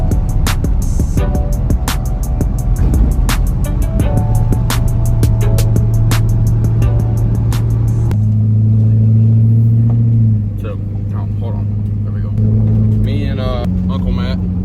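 Car engine droning steadily inside the cabin on the drive toward a hunting trip in the woods, with gear shifts and changing engine tones, loud and constant under bits of talking and background music.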